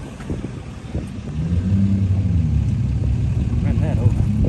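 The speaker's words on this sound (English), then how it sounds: "Hang on, he's going to move the truck." A vehicle engine idles then revs up into a steady low rumble nearby, with people talking over it.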